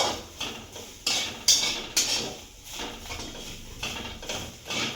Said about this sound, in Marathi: आपला हा किस दोन मिनिटे परतून घ्यायचा आहे